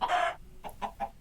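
Chickens from a chicken minion in Minecraft Hypixel Skyblock, one long loud cluck followed by three shorter, softer clucks in a steady rhythm, with no talk over them.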